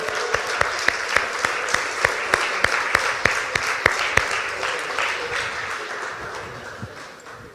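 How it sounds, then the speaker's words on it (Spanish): A church congregation applauds together, dense steady clapping with a few sharp louder claps standing out, filling the room for several seconds before gradually tapering off. "Dele un aplauso, por favor."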